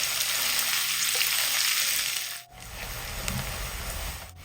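Sliced onions sizzle and hiss in a hot pan while being stirred, a dense steady frying noise with a brief break partway through and no voices.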